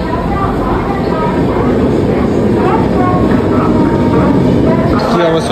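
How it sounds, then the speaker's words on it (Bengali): A train at Bardhaman station platform makes a loud, continuous rail rumble with clattering wheels, heard close, while a crowd waits nearby and voices mix into the din. "এটা চলে গেল, এরপরে ট্রেনটা আসবে মুম্বাই।"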